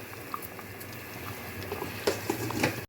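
Fish curry with crushed kasuri methi simmers covered over a low flame, giving a soft, steady bubbling and popping patter close by, with a few louder pops near the end and no voices.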